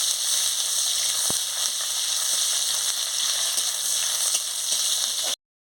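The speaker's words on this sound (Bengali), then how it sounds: "পেঁয়াজের কুচি দিয়ে দিচ্ছি, দিয়ে ভালো করে ভেজে নিচ্ছি।" Chopped onions sizzle and fry steadily in a hot pan for a leafy greens chorchori, a dense continuous hiss with a single brief knock partway through and no talk.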